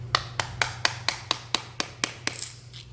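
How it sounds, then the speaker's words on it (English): A screwdriver knocks out a carpet tack strip beside tile: about ten sharp, evenly spaced taps in a steady rhythm over a faint low hum, with no talking. "you can basically use a screwdriver just to knock this out,"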